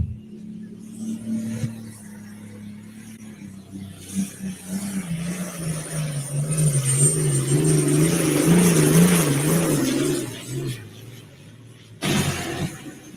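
The In Too Deep pulling tractor roars at a truck and tractor pull in Windsor, Colorado. Its engine note is loud, close and sustained, swelling and wavering as it winds up, peaking before easing off, then a brief burst near the end.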